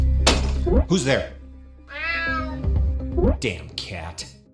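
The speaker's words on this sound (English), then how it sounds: "Damn cat." A cat meowing in the video game UNMETAL, a few drawn-out, fairly loud meows in the middle, with voices talking before and after.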